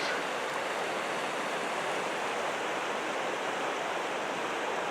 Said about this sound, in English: The river looks bigger than I thought